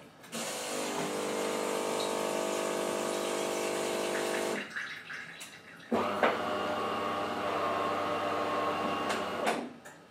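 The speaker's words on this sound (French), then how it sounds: "J'adore ma DeLonghi, mais elle est un petit peu bruyante quand elle se rince" A DeLonghi coffee machine runs its rinse cycle, a loud, steady whirring and hissing flow of water that stops briefly around the middle and then resumes for several more seconds before cutting off.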